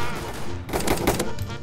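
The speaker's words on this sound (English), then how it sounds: "Why is there so much gunshots?" A quick burst of several sharp video game gunshots in Roblox cracks out in rapid succession, close and loud, after a brief lull.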